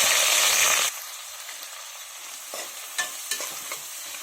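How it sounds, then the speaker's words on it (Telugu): Sliced onions and green chillies hit hot oil with cinnamon and a bay leaf in a pan, a loud hiss for the first second, then a quieter sizzle broken by a few scraping stirs. "ఇది కొంచెం గోల్డెన్ కలర్ వచ్చే వరకు వేపుకుందాం"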